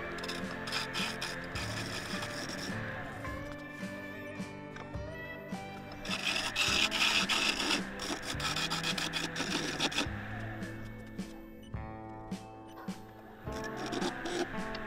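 A round nose scraper smoothing wood on a lathe produces intermittent scraping and rubbing bursts with tonal ringing, uneven in rhythm and moderately close, with no talk.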